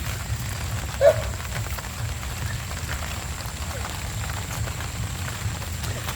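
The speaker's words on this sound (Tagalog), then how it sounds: "Ayan, mga kajali, umuulan, no? At umuulan eh." Steady rain patters across the whole stretch, a dense even wash with a low rumble beneath and one brief louder knock early on.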